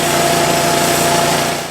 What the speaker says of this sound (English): I'm sawing out some slabs